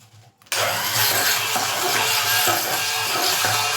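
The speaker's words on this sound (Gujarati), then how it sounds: "હવે આપણે તેને બ્લેન્ડરથી ક્રશ કરી લેશું" A kitchen blender crushes milk and coffee for cold coffee. It starts abruptly after a half-second of quiet, then roars loud, close and continuous to the end.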